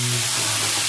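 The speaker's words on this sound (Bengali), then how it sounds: "আলুগুলো দিয়েছি আর ভালো করে নেড়েছি" Potatoes sizzle steadily in hot oil in a kadai while being stirred, a continuous close hiss and crackle with no talk.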